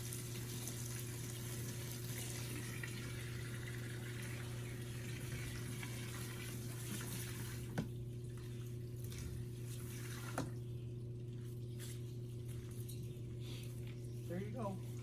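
Clean water pouring out beside a duck pond in Alton, New Hampshire, a continuous hissing splash under a steady low hum, with a couple of faint knocks partway through.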